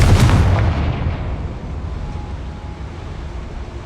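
A Confringo fire spell explodes in Hogwarts Legacy, a loud booming blast at the start whose deep rumble rolls and slowly fades over several seconds, with no voices.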